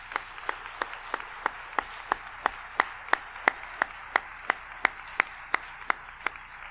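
A church congregation claps in a steady, even rhythm, about twenty sharp claps spaced evenly and sounding close and clear, with no talking over them.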